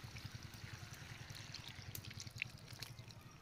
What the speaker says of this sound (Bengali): যে আলু সিদ্ধ করে রেখেছিলাম, যে ঝোলটা ছিল, সেই ঝোলটা আমি মাংসের মধ্যে দিয়ে দেব